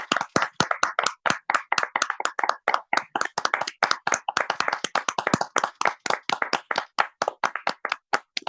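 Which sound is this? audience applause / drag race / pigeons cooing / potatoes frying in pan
audience applause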